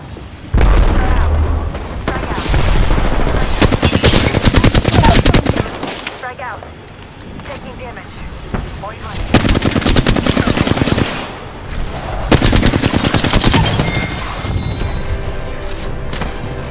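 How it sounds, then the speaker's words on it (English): Sustained automatic gunfire and heavy explosions roar through a firefight in a video game, loud and close, with bursts lasting several seconds and only brief lulls between them. "I am taking fire, friends."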